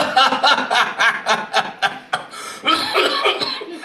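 A run of close, repeated coughs in quick bursts that slide into chuckling, with short pauses between them.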